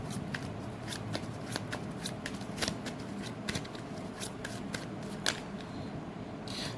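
Tarot cards are shuffled by hand for a reading: a steady run of crisp, close riffling flicks and slaps repeating for several seconds with no talk.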